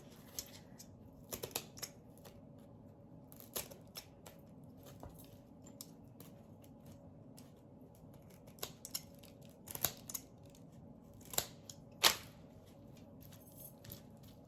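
Several crisp scissor snips at irregular intervals, quiet and close, over a faint steady background hum.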